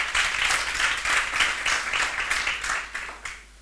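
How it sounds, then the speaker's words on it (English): An audience at a university tourism and hospitality school celebration gives a round of applause, a loud, close burst of clapping with pulsing swells that fades toward the end. "let's give them a round of applause"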